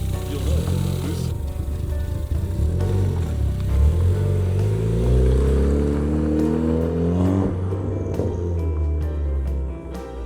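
A Ford Fiesta with a swapped-in engine revs up while driving, its engine note rising and falling in strong harmonic sweeps, loud and close, with voices talking over it.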